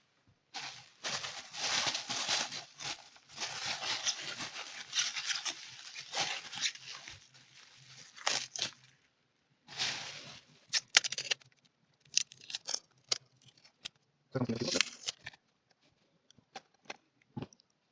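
Paper packing material from an unpacked parcel for a Philips Sonicare toothbrush is rustled and crumpled nearby in bursts, with quiet gaps between handling sounds.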